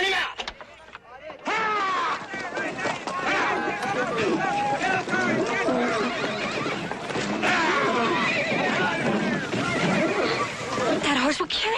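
A bucking horse neighs and whinnies loudly again and again amid hoofbeats and commotion in a Western ranch scene, with people talking over it.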